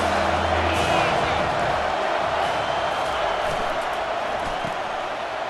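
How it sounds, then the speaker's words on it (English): A stadium crowd roars in a college football video game, Oklahoma against Clemson. The loud, dense, continuous cheering fills the whole stretch and may carry faint commentary underneath. "This crowd knows when to bring it."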